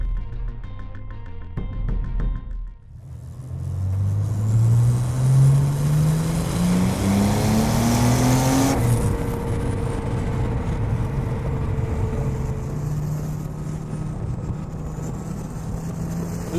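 A modified Porsche 964 Turbo 911 engine pulls hard while driving, rising in pitch through a long, loud acceleration, a quick gear change, then climbing again, heard alone without talk.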